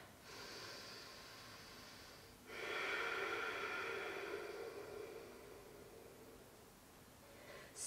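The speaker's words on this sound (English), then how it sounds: "A few full breaths, breathing into your upper back," Deep breathing during a yoga session, slow, full breaths drawn in and let out through the nose, close and soft, with a long audible exhale in the middle and no talking.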